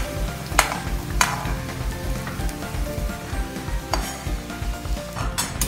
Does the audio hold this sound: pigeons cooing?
no